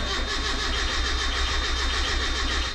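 A Mazda Miata engine cranks over without starting while the fuel pump relay is unplugged, a steady rhythmic starter churn lasting the whole stretch, loud and close.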